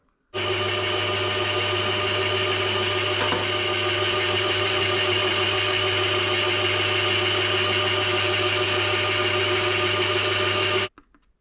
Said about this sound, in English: So now I've just got to machine the little bush that goes inside.